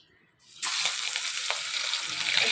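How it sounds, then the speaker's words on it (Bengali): Hilsa fish head frying in oil in a traditional Bengali village kitchen: after a brief quiet moment, a loud, steady sizzle and crackle bursts in and continues evenly to the end. "এটা ভাজা হোক ভালো করে।"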